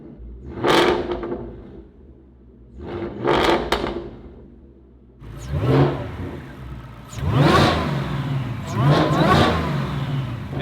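Ford Mustang GT fitted with a Borla exhaust and a Whipple supercharger revs up close in repeated loud bursts, two short blips followed by longer, higher pulls, with the supercharger whine riding over the exhaust roar.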